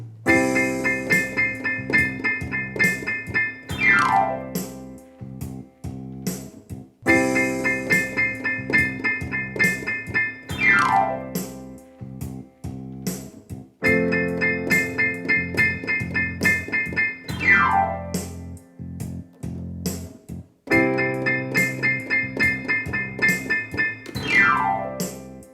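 Blues piano plays four slow, repeated bars, each of chord smashes followed by a descending glissando run down the keys. Loud, close and alone.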